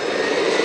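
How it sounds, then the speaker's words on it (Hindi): A private jet's engines roar loudly as they start up, a steady, broadband rushing hum filling the short moment with no voices. "तैयार हो जाओ, प्लेन स्टार्ट हो रहा है।"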